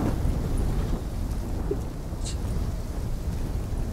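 Storm ambience in the Black Ops 3 campaign, a steady wash of heavy rain with a low thunder rumble, loud and continuous throughout with no speech.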